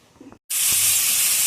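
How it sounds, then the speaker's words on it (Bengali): Fish frying in a pan in a home kitchen: after a brief pause, a loud, steady sizzling hiss bursts in and holds without a break, close to the listener. "মাছটা ভাজছি"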